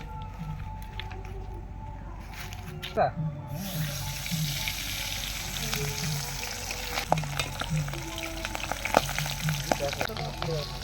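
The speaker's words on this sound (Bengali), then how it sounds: "মাছ ফাটছে দেবাদা।" Pabda fish fry in hot oil with steady sizzling and sharp crackles and pops, outdoors in a mango orchard, and a voice speaks briefly over the frying.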